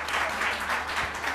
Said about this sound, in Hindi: जल्द से जल्द शाहरुख खान की तालियां हो जाएंगी।